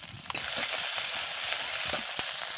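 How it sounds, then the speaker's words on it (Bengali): Ginger-garlic paste with ground cumin and mustard frying in a pan, a continuous close sizzle with a few scraping stirs and clicks, no one talking. "লাল লাল করে মশলাটাকে আমি কষিয়ে নেব"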